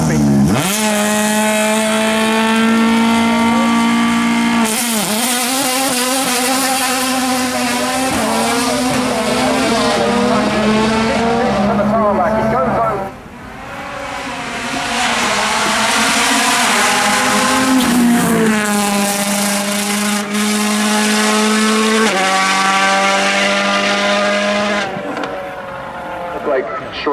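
A 2019 Ford Fiesta WRC rally car at the Goodwood Festival of Speed does donuts and launches, its engine roaring and revving hard with tire squeal, loud and close throughout, briefly dipping mid-run.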